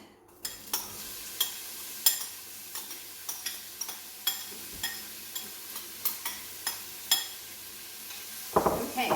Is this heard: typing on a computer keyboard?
no